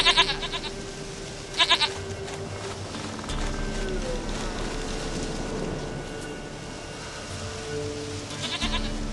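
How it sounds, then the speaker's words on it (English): A goat bleats in The Witcher 3 video game, with a few short wavering bleats at the start, in the middle and near the end over a low ambient game background. "Goat of mine, dearest, sweetest goat."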